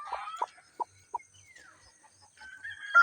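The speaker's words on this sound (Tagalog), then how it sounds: "So dito po ka-farmers yung manok na naglilimlim." Brooding hen on a farm giving a few short, separate clucks in an uneven rhythm, close and clear against quiet, with a longer call near the end.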